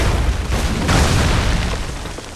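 A powder keg blows up in Assassin's Creed 3, a loud close boom followed by a dense, rumbling roar of noise that fills the whole short moment.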